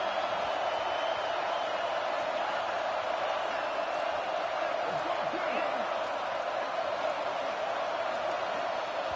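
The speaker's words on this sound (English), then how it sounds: "This place is roaring, and it's going to be so hard to operate under these conditions." Steady, loud stadium crowd roar at a Clemson vs Michigan college football game, a dense, sustained wall of noise throughout with a broadcaster talking over it.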